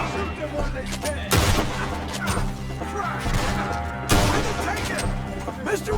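Gunfire erupts in a Red Dead Redemption 2 shootout, with two loud bursts of shots standing out over a dense, busy battle din and game music.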